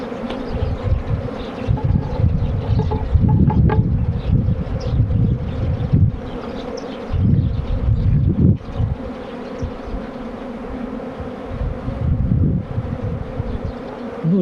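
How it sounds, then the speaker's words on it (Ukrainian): A steady, dense buzzing of many honeybees flying close by around apiary hives in spring, with gusts of wind rumbling against the microphone. "файно бджола літає"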